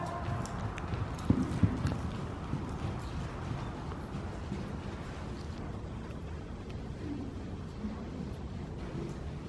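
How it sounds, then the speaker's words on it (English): A horse trots in a riding arena during a group riding lesson, its steady rhythmic hoofbeats faint and muffled under wind and background noise. "Trot across the blue"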